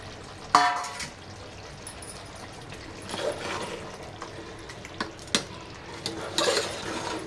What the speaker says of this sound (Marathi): थोडंसं हलवून घेऊ